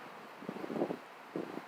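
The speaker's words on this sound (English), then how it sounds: "hear the wind. It's quite breezy today." A breeze blows outdoors near berry bushes on a windy day, heard as faint, soft gusts and buffeting in two brief swells over a low hush.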